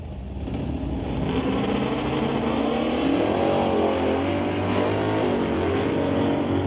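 Hot rods in a quarter-mile drag race roar down the strip at a steady, loud pitch, with engine tones sweeping and wavering as they pull away. No voices are heard over them.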